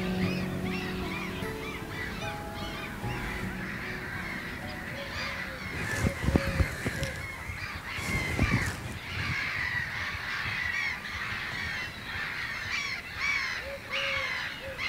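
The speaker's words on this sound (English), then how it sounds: "Can you hear the birds?" Birds honk and caw repeatedly at a distance over a steady outdoor background, with the calls overlapping throughout.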